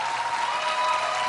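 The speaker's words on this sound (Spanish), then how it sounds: "Gracias por ese aplauso." Studio audience applauding on a Latin American television talk show, a steady dense wash of clapping that fills the short stretch at even loudness, with no talk over it.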